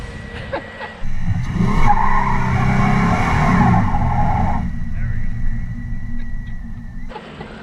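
A car doing a reverse burnout, tires squealing and skidding under a revving engine, loud and sustained for several seconds, with people talking over it.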